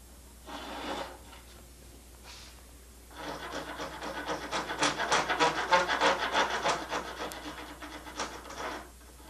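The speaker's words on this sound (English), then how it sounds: "for smoothing out the irregularities of the coped cut, you can use a 4-in-hand rasp" A four-in-hand rasp smooths the irregular edge of a coped cut in wood trim, a few short scrapes followed by a longer run of rapid, rhythmic rasping strokes, close and moderately loud with no voices.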